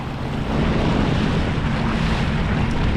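A Sea-Doo personal watercraft running on the ocean, its engine buried in a constant rush of wind and spray, loud and steady from start to finish.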